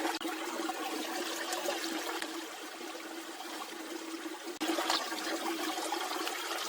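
Water is poured and trickles steadily into a bag outdoors during a camping survival trip, a continuous close splashing stream that briefly breaks off and resumes near the end, with no talking.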